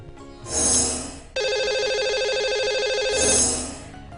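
A telephone rings twice in loud electronic bursts, with a steady warbling tone between them, and no voices.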